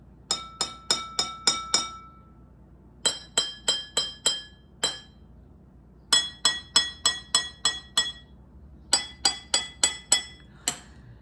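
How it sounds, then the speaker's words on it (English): Water glasses are struck in rising sequences of bright, ringing clinks, each tapped series climbing in pitch as the water level drops, repeated in several runs of five or six notes. "As the water gets smaller, the sound gets higher."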